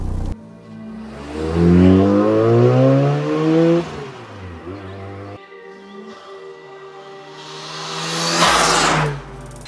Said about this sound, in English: For the exhaust, he's got the Trust Power Extreme titanium exhaust. This thing sounds amazing.